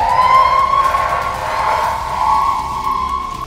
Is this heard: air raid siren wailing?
yes